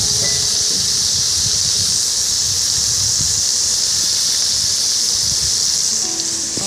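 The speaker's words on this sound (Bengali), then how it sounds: "কাতলা মাছ ভাজা" Katla fish frying in a pan in the evening in a village, a loud, steady, close hiss of hot oil that runs unbroken with faint crackles underneath and no talk.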